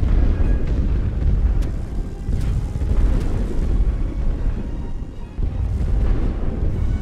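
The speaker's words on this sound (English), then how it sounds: "Heavy field artillery destroyed." Siege artillery shells pound a region in The Great War: Western Front, a loud, continuous barrage of deep booms and rumbling blasts with sharper impacts scattered throughout.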